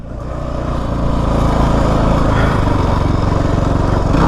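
A Kawasaki KFX 450R ATV engine under way on a ride, a loud, steady buzzing drone that builds slightly in the first second and then holds even throughout, close to the microphone, with no talk.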